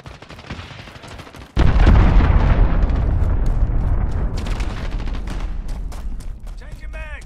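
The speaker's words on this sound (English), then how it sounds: "Allied cruise missile launched." An allied cruise missile strikes in Call of Duty: Modern Warfare with a sudden, very loud blast. A long rumbling roar follows and slowly fades beneath scattered gunfire.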